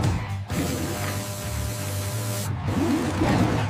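Cartoon high-pressure spray nozzles on a monster truck blast polymer from a high-capacity polymer tank in a steady, loud hissing rush that runs nearly the whole time, with a brief break and a low mechanical hum underneath.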